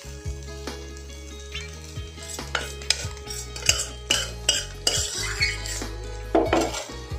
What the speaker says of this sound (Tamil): நீங்கள் இது மிக்ஸ் பண்ணிவிட்டு ரிமைனிங் இருக்க சாப்பாடு நான் கொஞ்சம் போட்டுக்கிறேன்